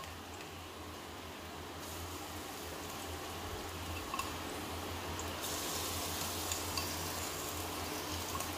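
Korma paste sizzles in a pan with fried onions, a steady, low hissing crackle that rises slightly partway through and continues without talk.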